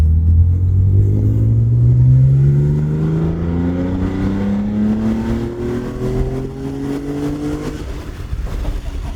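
One long, steady climb in revs from a BMW E46 M3 engine, loud and near, rising for several seconds before cutting off abruptly.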